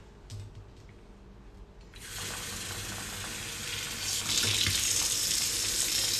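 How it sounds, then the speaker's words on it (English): Tap water running onto a sponge, a faint trickle at first, then a strong, steady hiss of flowing water that grows louder and brighter toward the end, with no talk. "some tap water."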